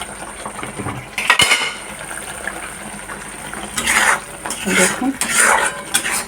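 Spice masala is stirred and fried in oil in a pan, with a metal spoon scraping and clanking against the pan in bursts over a low sizzle, heard up close.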